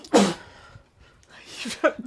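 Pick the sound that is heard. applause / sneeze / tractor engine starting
sneeze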